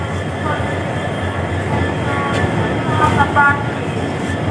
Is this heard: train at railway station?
yes